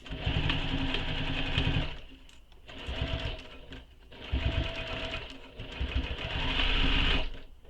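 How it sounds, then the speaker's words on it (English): A sewing machine runs a full-seam-allowance seam on a waist pack in three or four steady bursts of rapid stitching, each separated by short pauses, close and fairly loud. "You're going to sew this with a full seam allowance"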